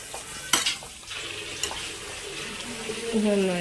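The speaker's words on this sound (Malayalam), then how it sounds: "ഇനി നന്നായി മിക്സ് ചെയ്ത് വീണ്ടും നമുക്ക് എല്ലാ ഭാഗത്തും ഇതാക്കി മിക്സ് ചെയ്ത് അടച്ചു വയ്ക്കാം" Chicken curry with garam masala is stirred in a pot, a spoon giving a few sharp scrapes against the sides over a soft bubbling, watery simmer, close and fairly quiet.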